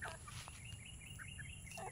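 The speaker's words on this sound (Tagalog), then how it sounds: "So nakatayo yung manok." A farm chicken clucks softly in a series of short calls against a faint, steady background hiss.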